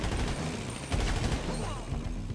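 Rapid bursts of gunfire crackle continuously over a dense, noisy background, shots overlapping in quick succession without pause, in a GTA 5 mission.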